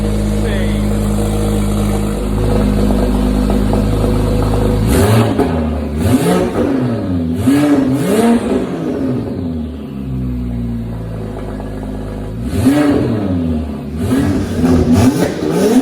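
Porsche 997 911 Turbo fitted with a Speedtech 3.0 straight-pipe race exhaust, loud engine revs rising and falling in several sharp bursts over a steady idle, with excited voices talking over it.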